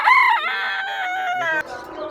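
A caged fancy rooster crows once, loud and near, a harmonic call with a sharp opening rise that holds and then ends abruptly.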